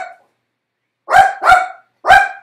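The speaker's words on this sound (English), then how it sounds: "You don't want to bark now." A dog gives three loud, close barks: two in quick succession, then a third after a short pause, following the tail of an earlier bark.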